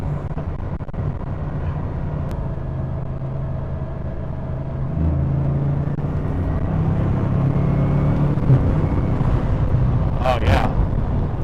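A Bugatti Chiron with its turbo wastegates on a freeway gives a steady low engine rumble that grows slightly louder midway, then a brief sharp whooshing flutter near the end.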